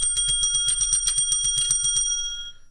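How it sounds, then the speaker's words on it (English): A bicycle-style bell dings in a quick, rapid series of bright metallic rings, close and loud, fading out at the end with no voices. "Where's my bell?"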